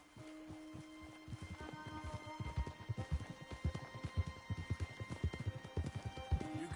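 Horse hooves clip-clop in the Red Dead Redemption 2 video game, a steady rhythmic run of soft hoof thuds moving along at a walk or trot, fairly quiet, with faint background ambience and no talking.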